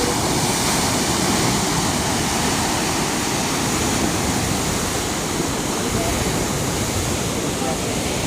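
Fast water rushes steadily through the Dinajpur rubber dam, a dense, loud, unbroken roar that fills the whole stretch with no pauses.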